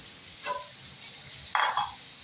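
Tomato paste hits hot frying onions in a pan for Punjabi-style aloo bhujia, giving two short sizzles, a faint one followed by a louder, sharper burst.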